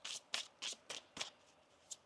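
Tarot cards are shuffled in quick riffling bursts, about six crisp papery flurries in a steady rhythm, close and soft with no talking.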